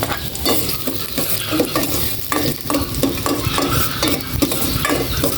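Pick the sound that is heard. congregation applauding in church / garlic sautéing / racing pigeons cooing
garlic sautéing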